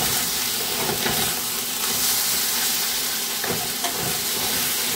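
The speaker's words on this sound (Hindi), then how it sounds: "अब हम इसमें टमाटर को डाल देंगे और टमाटर को डाल के इस तरह से बीच में कर देंगे" Tomatoes are added to potatoes and capsicum frying in a pan, producing a loud, steady sizzle and hiss with occasional stirring scrapes throughout.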